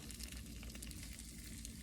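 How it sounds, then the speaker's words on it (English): Steady, dense sizzling and crackling of potato hash cooking in a waffle iron, continuous and fairly close, with no voices. "Here's a sizzle."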